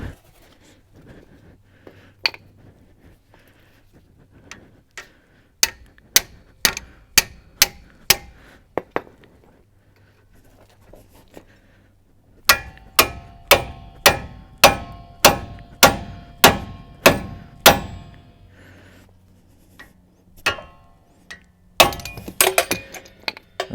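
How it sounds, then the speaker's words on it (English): Heavy hammer blows ring out on a steel tool driven to wedge loose a ball joint on a 1992–2000 GM 4WD K truck, in two sharp, evenly spaced bursts of about seven and ten metallic strikes, close and loud, then a final flurry. "I'm going to be using the big hammer to wedge this guy in"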